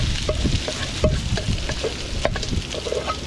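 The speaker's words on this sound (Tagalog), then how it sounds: "Lutuin lang muna natin ng maigi. Bawang pa lang yun, sundan natin yung kanin." Garlic fries and sizzles in a pan at a campsite, with quick stirring scrapes and clinks of a spatula close by. No one speaks.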